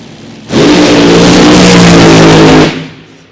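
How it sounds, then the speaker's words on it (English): The Bushwhacker AA fuel altered drag car launches hard down the track at Eddyville Raceway Park, a sudden deafening engine roar that holds for about two seconds before dropping away. "straps into this Bushwhacker AA fuel altered, and he's ready to go"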